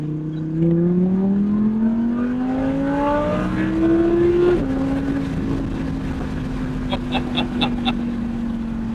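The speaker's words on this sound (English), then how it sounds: "the car launches so fast and so instantly" An Audi R8 engine revs hard and climbs in pitch through the gears, shifting once, then holds a loud steady drone with faint clicks near the end.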